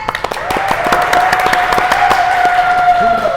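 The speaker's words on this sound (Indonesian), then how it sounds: "Boleh tepuk tangannya." An audience at a talk show taping claps, scattered sharp claps building into steady applause lasting a few seconds, with a faint tone running underneath.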